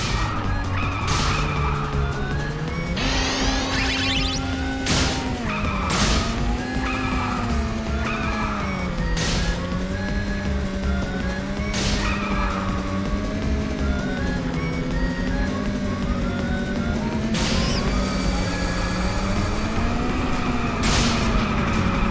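Race car from Ape Escape 3 driving continuously, with a steady engine drone that rises and falls in pitch, plus repeated sharp impact and skid bursts as it knocks other cars off the road, set over game music.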